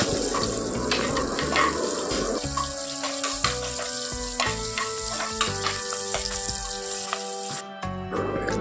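Green chillies go into hot oil in a pan with curry leaves for vangibath, sizzling and crackling steadily close by, with scattered clinks and scrapes of stirring throughout.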